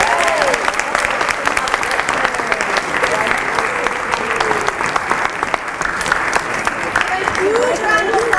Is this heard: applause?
yes